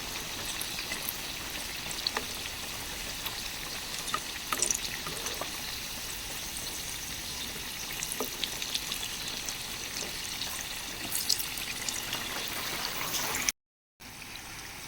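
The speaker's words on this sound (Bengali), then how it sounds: "বাকি বড়াগুলো আমি একই পদ্ধতিতে তেলের মধ্যে ভেজে নেব" Chana dal fritters fry in hot oil with a steady, even hiss of bubbling and faint crackles throughout, broken by a brief silent gap just before the end.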